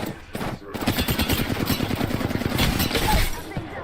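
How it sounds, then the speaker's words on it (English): Rapid video game gunfire crackles in dense bursts, loud and close, with a burst of automatic fire running under faint voices. "I'm getting shot at"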